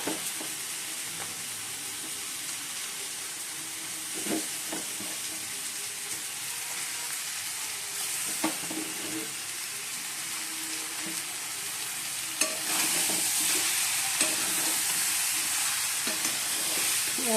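Spices are being sautéed in a pan, giving a continuous sizzling hiss with scattered stirring scrapes; the frying grows louder and brighter near the end.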